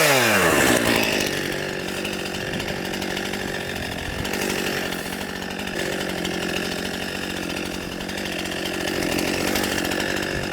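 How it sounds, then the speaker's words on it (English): A chainsaw cuts through fallen branches blocking a trail, running loud and close with a continuous buzzing roar that bogs and revs slightly as it bites into the wood. "So we'll grab the chainsaw, we'll work our way back that way,"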